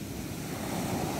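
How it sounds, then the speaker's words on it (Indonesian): High ocean waves roll onto a beach as a continuous, rumbling wash of surf with wind noise in the mix. The sound stays near and steady, and no one speaks over it. "Kita lihat ini ombaknya."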